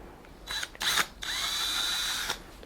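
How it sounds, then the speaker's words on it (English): A power drill bores a hole into a potato, whining in two short bursts and then one longer steady run before cutting off, loud and close with no talk. "we'll drill a hole in it somewhere where it's going to sit level"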